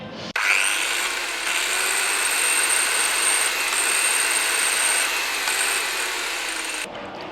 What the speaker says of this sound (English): They're having heavy construction, and all I hear is sawing